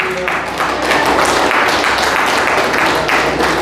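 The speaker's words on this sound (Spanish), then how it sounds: "Dale palmas al Señor." A church congregation claps hands in praise during a service, a dense, steady wash of many hands clapping together, loud and continuous with no talk.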